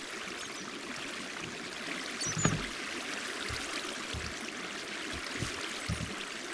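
Water rushing and trickling through a Minecraft cactus farm, flushing items away: a steady broadband gush throughout with faint low knocks, no voices.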